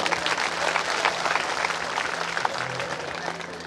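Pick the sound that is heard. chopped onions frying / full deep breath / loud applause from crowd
loud applause from crowd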